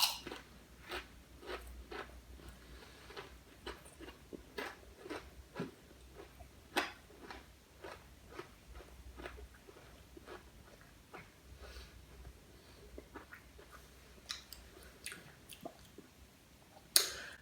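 Marks & Spencer hand-cooked Parmesan and Prosciutto crisps being bitten and chewed up close, a steady run of sharp crunches and crackles repeating for the whole stretch with no talk.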